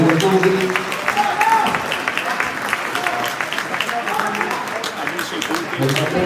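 An audience at an amateur Olympic-style boxing event in Sarcedo applauds the boxers at the end of a round, a continuous wash of clapping and crowd noise with voices talking over it throughout.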